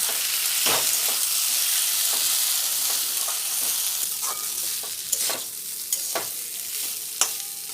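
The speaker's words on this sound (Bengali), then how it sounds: "এটাকে আমি ভালো করে ভাজবো।" Turmeric and spices fry with a constant bright sizzle, broken by scraping and clacks of a spoon stirring against the pan.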